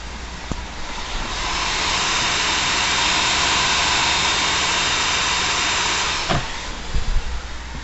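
An ATI Radeon HD 4870 graphics card fan running at 100% speed gives a loud, steady whooshing roar that swells up over a couple of seconds, holds, then cuts off abruptly near the end.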